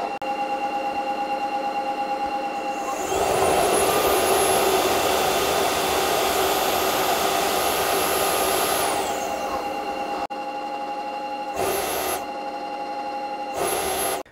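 An Ultenic AC1 Elite wet-and-dry vacuum runs its cold-water self-cleaning cycle, a steady loud motor whine with a high tone over the spinning brush roll, then winding down, followed by two short bursts of motor noise.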